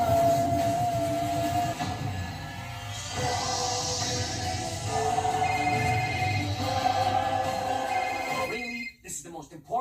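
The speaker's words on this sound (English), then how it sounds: "Your cell phone rings?" A cell phone rings during a movie scene, its electronic ringtone sounding steadily for several seconds under continuous voices and background noise before cutting off abruptly near the end.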